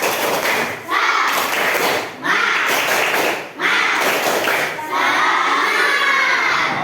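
Schoolchildren in a classroom perform a tepuk semangat spirit chant, loud rhythmic clapping and thumping in repeated bursts with shouted voices, brief pauses between each round.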